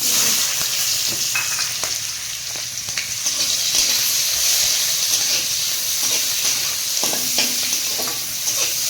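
Onions sizzle and fry steadily in hot oil while being stirred, a close, continuous crackling hiss with occasional scraping clicks from the utensil, no voices.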